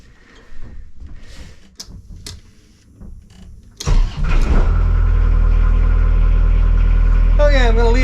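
A wooden liveaboard boat's engine cranks and catches at about four seconds, then settles into a loud, steady low idle with a droning hum, following quiet clicks and handling noises.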